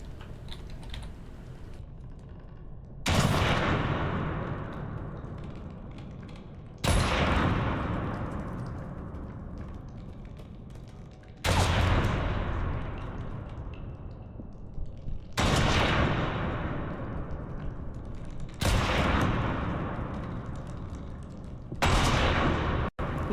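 Gunfire in the video game Reanimal: about six loud, sharp blasts spaced roughly four seconds apart, each followed by a long decaying rumble, with no talking.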